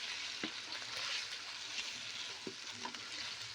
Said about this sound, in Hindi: अब मैं इसके अंदर डालूंगी टमाटर। इनको भी मिक्स कर लेंगे।